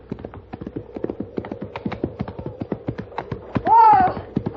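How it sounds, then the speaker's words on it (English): A horse's hooves clip-clop steadily at a walking pace, sharp regular knocks heard close up, with a brief whinny near the end. "Look back there, that horse."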